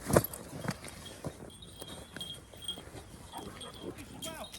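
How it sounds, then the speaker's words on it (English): Dogs bark excitedly beside a summer carp fishing lake in Petit Pretre, France: a sharp, loud burst near the start, then scattered yelps and whimpers amid outdoor clatter and nearby voices. "Dogs are going nuts."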